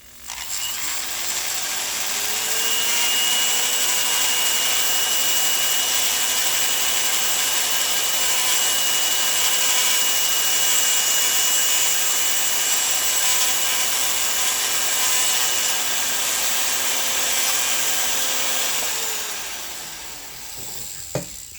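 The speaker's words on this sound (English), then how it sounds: "This is just a little sanding wheel on my rotary tool." A small rotary tool whines steadily at a high pitch as its sanding wheel grinds against metal, running continuously for about twenty seconds before spinning down.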